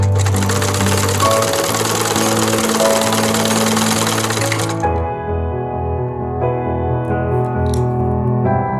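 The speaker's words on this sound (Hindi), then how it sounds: "स्टिच करते जाएंगे।" A sewing machine runs steadily, stitching the collar onto a kurta neck: a loud, continuous mechanical hum that shifts to a lower, pulsing rhythm partway through, with no talking.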